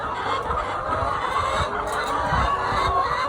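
Layer hens clucking steadily in a dense, continuous chorus, close and fairly loud, with no talking.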